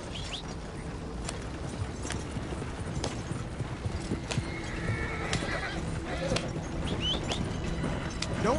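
A horse gallops in the Western video game Red Dead Redemption 2, with rapid steady hoofbeats and a brief whinny over a constant rumbling background, partly under voices.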